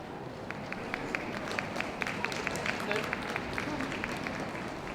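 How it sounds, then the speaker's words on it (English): Applause from a crowd at a UK toy dog show, greeting a best of breed Papillon: quick, steady clapping from many hands, moderately loud, held at an even level throughout. "That was it, a bit more applause."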